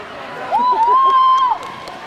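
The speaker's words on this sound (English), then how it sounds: "I'm very happy that Haley's cheering so loud." A spectator at a school swimming invitational lets out a long, loud sustained cheer that rises, holds for about a second and drops away, standing out over a murmuring crowd.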